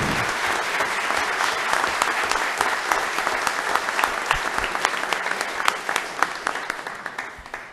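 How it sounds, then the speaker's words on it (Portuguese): Sustained applause from an audience welcoming councillor Adriano Bedori at a municipal chamber swearing-in in Atibaia, dense and steady clapping throughout with a few sharper individual claps standing out. "uma salva de palmas ao vereador Adriano Bedori"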